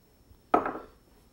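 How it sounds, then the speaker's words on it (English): Chopped walnuts drop into a bowl of thick carrot cake batter with one close, brief clatter and rustle, then quiet. "now I'm going to throw in my walnuts that I chopped earlier"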